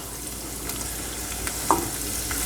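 Onion frying in a hot pan, a steady even sizzle with one brief clink partway through, heard alone.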